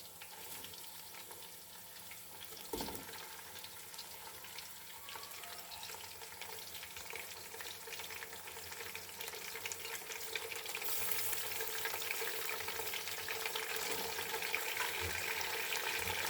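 Chicken and mutton frying in a pot give a steady, even sizzle with faint crackling and occasional stirring clatter, growing a little louder and hissier toward the end, with no talk.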